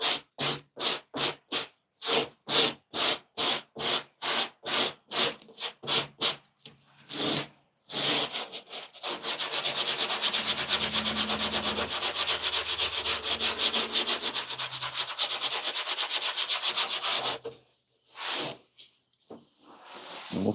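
A carved foam block tree is smoothed by hand, first with a series of quick, evenly spaced rubbing strokes, then a long sustained scraping rub, ending with a few more separate strokes; close and fairly quiet, no talk.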